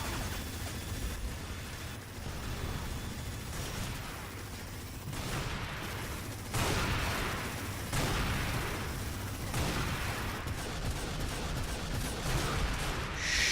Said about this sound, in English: The minigun is useless,